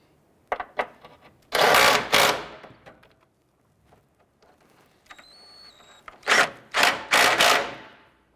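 Ratchet wrench tightening the lower engine mount bolts on a 2001-2005 Honda Civic, heard as several bursts of rapid clicking, close and fairly loud, separated by quiet pauses and a brief faint tonal whine.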